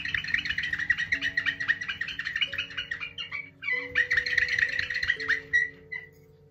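A small split bamboo bird call whistle, cut about 5 mm with a bevel, imitates birdsong in a run of quick, bright chirps and warbles. Faint sustained low tones play underneath.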